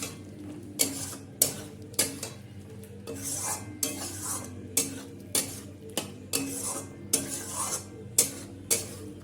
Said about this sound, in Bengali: এবার আলুর সাথে ভালো করে কষিয়ে নিতে হবে